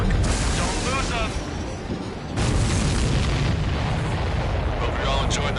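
Explosions in the combat flight game Ace Combat 7 roll continuously as dense, loud booms and rumbling blasts, with a brief dip before the barrage resumes, while a faint voice talks underneath.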